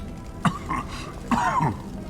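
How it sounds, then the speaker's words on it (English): A character in the video game Mass Effect coughs and clears the throat twice, two rough, close bursts with a short pause between them. "I'm not going to let a cough keep me back."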